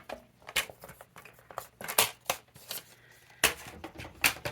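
Scissors snip through scrapbooking paper to cut two rows of hearts, giving a run of irregular, close, crisp cuts and rustles with short pauses between them and no voices.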